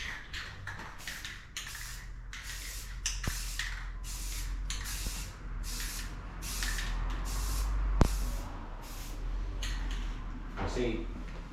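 Aerosol spray can laying down a third coat of paint on a 1995 Chevrolet Silverado OBS pickup, heard as a series of short hissing bursts repeated steadily over a low background rumble, with someone talking intermittently.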